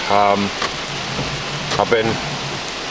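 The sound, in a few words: heavy rain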